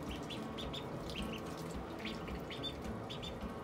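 Young Khaki Campbell and Pekin ducklings peep in a brooder, many soft, high chirps scattered over a steady background hiss, faint and close.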